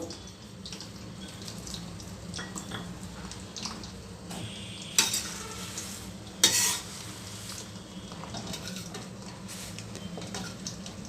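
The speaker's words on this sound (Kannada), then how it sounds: "ಈ ರೀತಿ ಪೂರ್ತಿಯಾಗಿ ಎಣ್ಣೆಯಲ್ಲಿ ಈ ರೀತಿ ಫ್ರೈ ಆಗಬೇಕು" Ingredients for a homemade hair oil fry in hot oil, giving a steady low sizzle and bubbling with stirring scrapes, plus a couple of brief louder clatters near the middle, with no talking.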